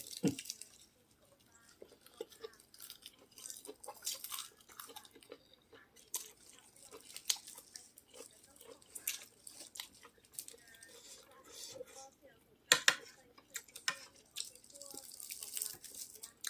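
Close, wet chewing of large intestines eaten with fresh vegetables and dill, heard as quiet, irregular squishy bites and soft mouth clicks that continue steadily with no talking.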